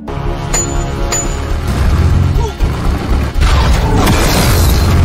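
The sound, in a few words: Tiger tank cannon firing in a war film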